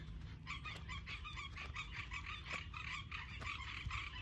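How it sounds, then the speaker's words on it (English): Frogs croaking at dusk in Shepherd State Park, a dense rhythmic chorus of repeated croaks, moderately close and fairly quiet, with no talking. "Hear the froggies?"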